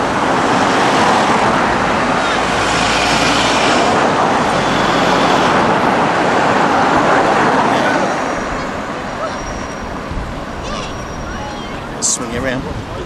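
Road traffic passes on the Mall in London near Admiralty Arch, a loud continuous roar of cars and buses heard from a traffic island, easing slightly toward the end, with a voice talking over it.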